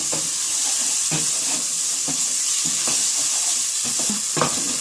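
Ginger garlic paste sautéing in a pan for a green chicken curry, a steady hissing sizzle broken by repeated soft scrapes of a spoon stirring the paste.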